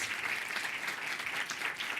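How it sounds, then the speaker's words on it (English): A short burst of steady audience applause for an author and speaker at a Talks at Google event, a continuous patter of clapping heard at a moderate distance. "Please, just a round of applause for our author and speaker."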